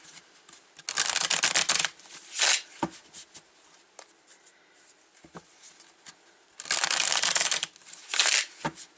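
A deck of cards being shuffled up close in two loud riffling bursts with a few taps and handling sounds in between, and no talking.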